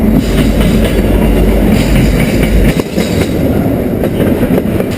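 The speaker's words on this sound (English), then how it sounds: "here comes a train now" A loud freight train roars past close by with a heavy rumble and rattling wheels, the noise easing slightly partway through.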